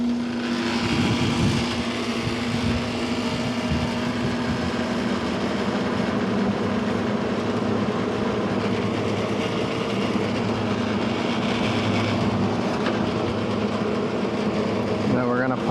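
Hospital cooler unit running steadily, a loud continuous mechanical hum and whir with a strong low tone and broadband rushing noise, holding constant throughout with faint background voices.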